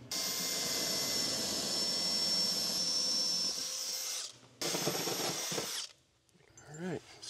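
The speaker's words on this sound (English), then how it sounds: "use a different cheap drill bit to drill it out" A power drill whines loudly and steadily boring through a wall, cuts out briefly, bores again, then stops, leaving a few quieter rattling sounds.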